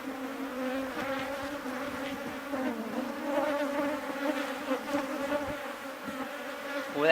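Honeybees buzzing at an open, thriving hive, a dense steady hum of many wings close by, continuous and even throughout with no talking.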